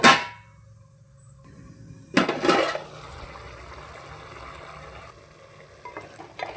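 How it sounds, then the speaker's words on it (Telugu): A ladle clangs against a pot of cooking dal with drumstick as cut tomatoes are stirred in, followed by a short burst of scraping and bubbling, then a quiet steady hiss of simmering. "ఇప్పుడు ఒక 3 టమాటాలు కట్ చేసినవి వేసేసి బాగా కలబెట్టేసి"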